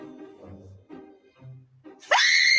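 A sudden loud, high scream erupts near the end, from a car backup-camera prank with a demonic face, after a stretch of low, muffled sounds.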